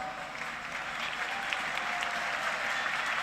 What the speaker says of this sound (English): What about a round of applause for this fella?